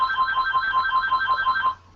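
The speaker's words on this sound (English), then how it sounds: "Phone's ringing, dude." A phone rings during a lively holiday party, a steady electronic ringtone repeating quick pulses for nearly two seconds before cutting off, loud and close with no voices over it.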